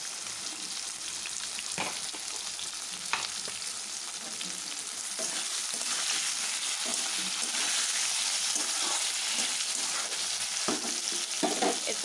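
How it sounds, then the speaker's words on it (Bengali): Potato and bitter gourd pieces fry steadily in hot oil, giving a constant close hiss with scattered soft stirring knocks and no voices over it. "এরপর আলুটা একটু সেদ্ধ হবে আর ভাজা ভাজা হবে"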